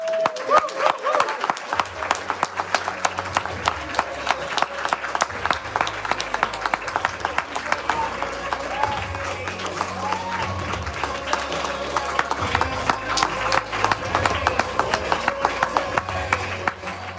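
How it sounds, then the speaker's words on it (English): Audience applause at an Amazon networking event, a lively mix of many hands with sharp individual claps and some cheering, building after a quiet start and continuing steadily throughout. "huge round of applause"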